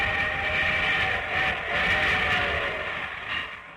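A steady rumbling train sound effect with a sustained steam whistle riding on top, continuous and fairly loud throughout, opening a radio show.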